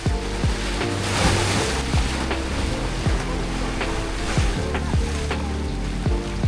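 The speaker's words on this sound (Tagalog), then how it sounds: "Parang ang lakas ng alon, Clark." Strong sea waves wash and churn around Bantayan Island, a steady broad surf roar with repeated surges and splashes close by, wind mixed in and no talk.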